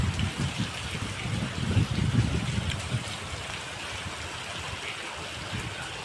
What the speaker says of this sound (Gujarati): ફૂલ એમ ફૂલ વરસાદ આવી રહ્યો છે